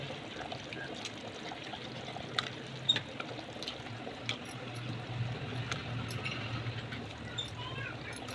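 Mutton curry gravy with meat kola balls simmers in a pot, giving faint, soft bubbling and occasional small pops over a quiet, steady background.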